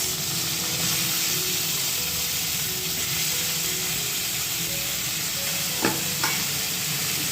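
Cauliflower and potato cooking in an oiled pan for a vegetarian dish, a constant close sizzle and hiss with a couple of sharp utensil clinks near the end.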